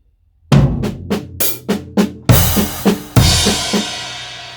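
A close, loud drum fill: rapid tom hits, including floor tom, and hi-hat strokes in a triplet pattern, broken by two ringing crash cymbals with kick underneath.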